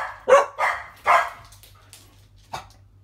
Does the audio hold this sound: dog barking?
yes